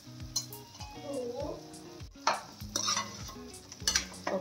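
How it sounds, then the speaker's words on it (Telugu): Mutton seasoned with salt and turmeric fries and is stirred in a hot pan. A spoon scrapes the pan in repeated strokes over a steady sizzle, with occasional metal clinks and a steady tonal background. "ఇట్లా పసుపు స్మెల్ పోవడానికి ఒక 2 minutes ఫ్రై చేసుకోవాలి."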